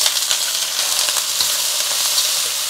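Green beans hit a hot wok with rendered pork belly, scallion, ginger, dried chilies and star anise, giving a steady, loud, close-up sizzle and hiss with no talking.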